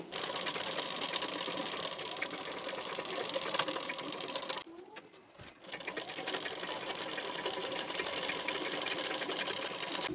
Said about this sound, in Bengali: বসিয়ে নিয়ে এখান থেকে হাফ ইঞ্চ গ্যাপিং দিয়ে এই পর্যন্ত সেলাইটি দিয়ে নেব।